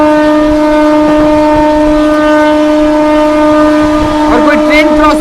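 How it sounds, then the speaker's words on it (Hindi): Amrit Bharat Express train running through Prayagraj Junction without stopping, a loud steady rumble with strong sustained tonal hum and rising squeal-like bands near the end, close by. "अमृत भारत स्किप कर रही है प्रयागराज जंक्शन को"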